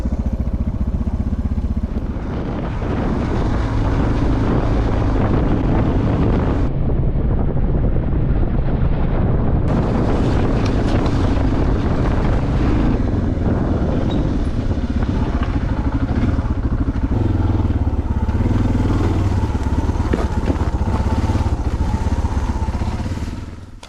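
A motorcycle riding in to a remote lake at season's end, engine droning steadily for the whole stretch, heavily buffeted by loud wind noise on the microphone, with no talk.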